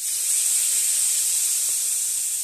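Ground spices with Kashmiri chilli powder and ginger paste fry in hot oil, giving a steady high hiss that holds evenly throughout.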